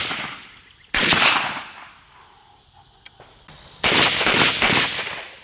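Zastava M90 rifle firing a 29-round magazine: two loud, close bursts of rapid gunfire, each lasting about a second or more, separated by a quieter pause.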